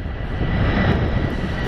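Fixed-wing airplane passing overhead near Atlanta airport, a loud, steady low engine roar that swells slightly at mid-point, heard alone with wind buffeting the microphone.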